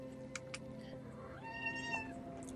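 A cat in the video game Oxygen Not Included, perched on top of a cat post, gives a short rising meow against a steady tonal game soundscape, with a few soft clicks just before it.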